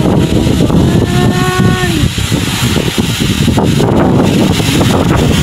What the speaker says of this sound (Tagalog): Dinig yung hangin guys.